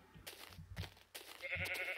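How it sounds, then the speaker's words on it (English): A sheep in the video game Minecraft bleats several times in short wavering calls, the last one longer and more tonal, fairly faint and alone with no talk. "a sheep has appeared."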